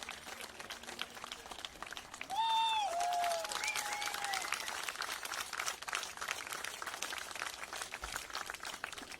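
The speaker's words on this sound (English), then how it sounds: "Crowd applauding that" A crowd applauds at a motorcycle sidecar race, a steady wash of clapping with a few shouts and whistles near the start, under a commentator's voice.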